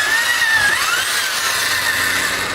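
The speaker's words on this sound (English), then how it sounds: "And again, we use a drill." A power drill bores a quarter-inch hole through a Kydex sheet for a Glock holster, a loud, steady high whine that runs unbroken from start to finish with no pauses.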